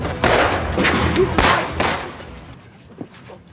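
Gunfire and shelling from a World War II film scene set in Warsaw, a dense run of loud overlapping blasts and bursts for about two seconds, then fading into quieter scattered reports.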